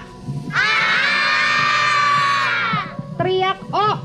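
Children at an Islamic boarding school gathering shout a long, drawn-out "A" in unison, loud and sustained for about two seconds, followed by scattered shorter voices and cheers, with an adult speaking around them.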